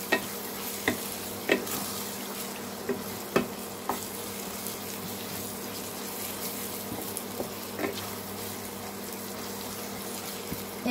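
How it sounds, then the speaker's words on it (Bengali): Mutton curry masala sautéing in a pan for a Kerala-style curry: a continuous low hiss of frying with scattered faint clicks of stirring, close and steady, without speech. "এটা আমি 2 মিনিট কষিয়ে নেব"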